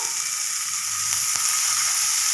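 Chopped onions frying in oil in a pan while making masala vada, a steady close hissing sizzle with faint stirring clicks throughout, no talk.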